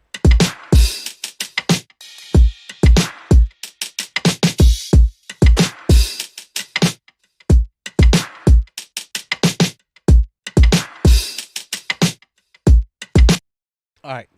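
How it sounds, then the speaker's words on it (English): Soloed drum section from an Ableton beat, with punchy, clear kick drum hits driving a steady pattern alongside snares and percussion, loud and upfront with short gaps between hits. "what you're hearing there is there's clarity in the kick"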